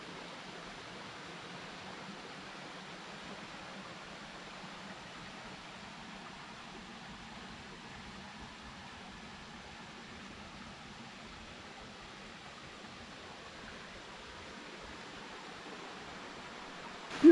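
Waterfall and stream at a water source along the Appalachian Trail, a steady, even rush of flowing water that holds constant throughout, with no voices.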